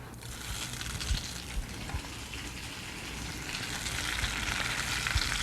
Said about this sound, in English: we can begin to saute our noodle galettes